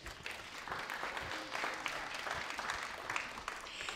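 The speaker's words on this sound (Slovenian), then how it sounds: "aplavz za njo" Warm applause at the opening of an international art colony, a crowd clapping steadily for several seconds at moderate, slightly distant level, with faint murmuring voices underneath.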